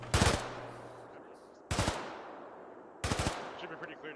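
Arma 3 military exercise gunfire: three loud, close bursts of rapid automatic fire spaced about a second and a half apart, each cracking sharply and then echoing away, with quiet gaps between them.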